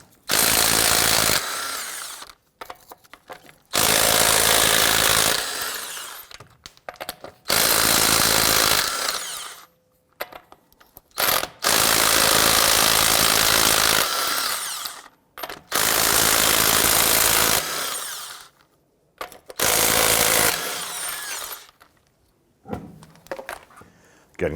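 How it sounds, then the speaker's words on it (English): Power tool zipping off the lug nuts on a 2007-2014 Cadillac Escalade wheel with a 22mm socket, loud repeated bursts of whirring and ratcheting separated by short pauses, close and alone. "using a 22mm socket, you want to go ahead, loosen and remove all of your lug nuts"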